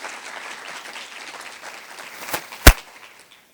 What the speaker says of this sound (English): Let's give a round of applause for all of our speakers this morning